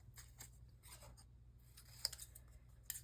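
Scissors snip through paper in a few quick, faint cuts, with soft rubbing and scraping sounds between them.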